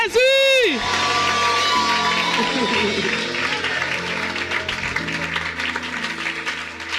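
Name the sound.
church congregation cheering and applauding Jesus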